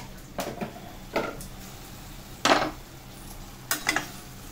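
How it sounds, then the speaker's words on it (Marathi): Metal lid lifted off a cooking pot of simmering spine gourd vegetable: a few separate clinks and scrapes, one louder clatter in the middle, close and fairly quiet against a faint background. "आपण झाकण काढून बघूया भाजी झाली का."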